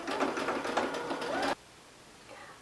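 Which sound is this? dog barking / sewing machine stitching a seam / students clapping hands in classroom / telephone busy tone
sewing machine stitching a seam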